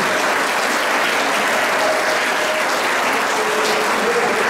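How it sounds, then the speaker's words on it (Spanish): Steady, dense applause from an audience at a club's 50th anniversary celebration of a 1974 championship, filling the whole stretch evenly with no pauses and no voices rising above it. "El aplauso es para ustedes también."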